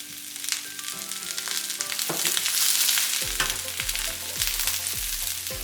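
Cabbage frying in a pan for homemade pork egg rolls, a dense continuous sizzle, close and loud, with clattering stirring sounds over it.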